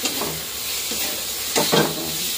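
A vegetable curry sizzles and fries in a pan, with close, steady hissing and scraping stirring strokes; no one speaks.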